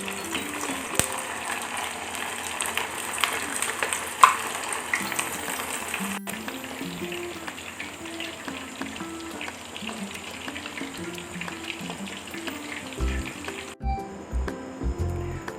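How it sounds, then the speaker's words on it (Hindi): Kofta meatballs frying in hot oil, a continuous crackling sizzle with watery bubbling, joined by soft background music throughout and a clattering handling noise near the end. "अब हम इसमें कोफ्ते फ्राई करेंगे"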